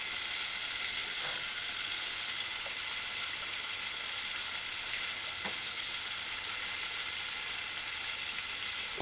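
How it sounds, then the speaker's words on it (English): Rice and peas stirred in a hot pot give a constant bright sizzle with a few soft scraping strokes of the spoon, close and steady throughout without any voices. "give your rice and peas a proper stir"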